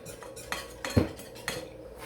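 A utensil mixes a honey barbecue sauce mixture in a bowl, producing a quick series of close metallic clinks and taps over about two seconds. No one speaks.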